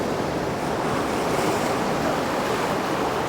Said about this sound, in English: Another little splash over the rocks on the left.